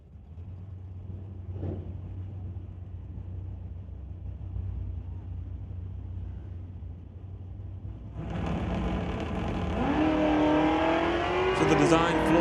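Drag race cars at an ET series event, including a 2-liter turbo Volkswagen Golf, rumble steadily before one launches hard with a loud rising engine roar and tire noise, while a commentator talks throughout.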